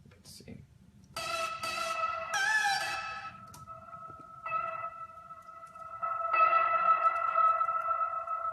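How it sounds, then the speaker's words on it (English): Synth sound in a music studio mix with extra reverb printed on it, sustained bright chords and notes entering in stages with spacious echoing tails, moderate loudness and no talk over it. "I printed out a little bit of extra reverb on this sound"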